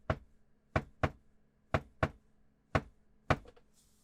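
Knocking on a door imitated with sharp, hollow raps in an uneven rhythm, about seven close, distinct hits with brief gaps between them, heard alone.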